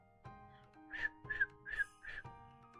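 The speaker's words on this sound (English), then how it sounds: "I can make the whistling noise." Person whistling four short, breathy notes in a steady rhythm, close and fairly quiet against a faint background hum.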